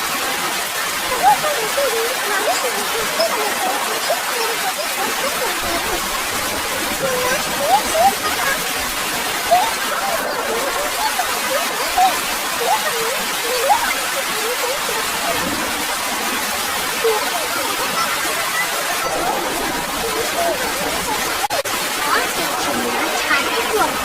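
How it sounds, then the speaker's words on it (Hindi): Heavy rain in a cartoon scene, a continuous dense hiss of downpour pouring steadily and loudly throughout, with scattered brighter drip and splash accents. "फिर तेज बारिश शुरू हो जाती है।"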